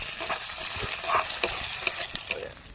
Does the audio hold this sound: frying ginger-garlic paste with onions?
yes